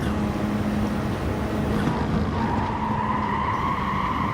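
A car spinning out in GT Sport at Kyoto Driving Park Yamagiwa: a loud, constant engine drone with tyre squeal and a shifting whine as the car loses grip, sustained throughout.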